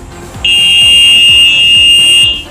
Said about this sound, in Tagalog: ito yung horn niya. Yan, ganyan kalakas yung horn niya